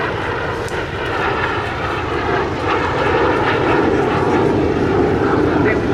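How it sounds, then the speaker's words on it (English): A BAC Jet Provost T5 jet trainer flies past at a summer airshow, a loud, sustained engine roar that swells slightly as it passes, with a commentator talking over it. "here it is in over the motorway of the British Aircraft Corporation Jet Provost T5"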